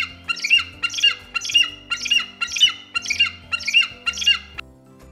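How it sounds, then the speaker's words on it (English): An eagle screeches eight times in a row, each call a harsh, shrill squawk at an even rhythm, close and clear with nothing else heard. "The eagle's sound is screech."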